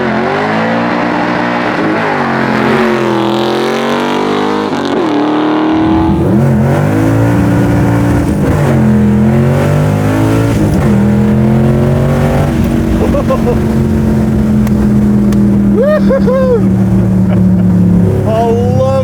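Pro street '67 Chevy Nova pulling hard, its loud engine climbing through gears with rising revs and a brief bounce off the rev limiter, close and continuous throughout.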